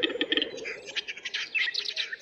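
Nightingale singing: quick, bright trills and tweets in uneven bursts, loud and close, with nothing else heard.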